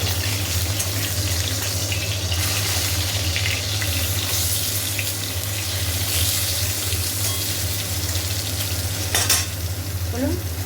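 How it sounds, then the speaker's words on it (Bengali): Eggplant slices fry in a pan with an even, hissing sizzle over a constant low hum, broken by a brief sharper crackle near the end. "বেগুন ভাজা হচ্ছে।"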